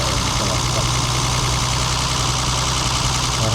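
Mercedes-Benz 280 CSL (C107) engine idling after repair of a faulty distributor, a steady even rumble close up, with no talk.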